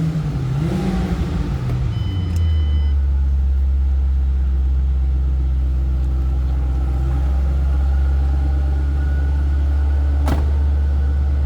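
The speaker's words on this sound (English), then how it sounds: "You hear that supercharger whistle." A 2007 Ford Mustang Saleen S281 supercharged engine drones steadily from inside the convertible's cabin, with a faint high supercharger whine riding over the low rumble as it revs briefly.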